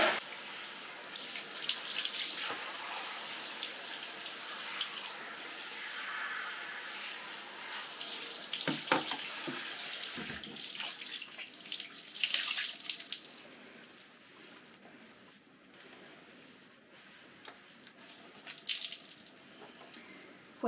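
Tap water running over hair while a hair mask is rinsed out, a soft, continuous splashing rush with shifting swells and small bursts, fairly quiet and close, lasting about twenty seconds with no talk.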